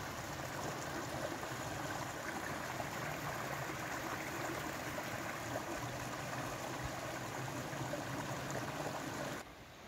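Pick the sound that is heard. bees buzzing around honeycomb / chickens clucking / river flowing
river flowing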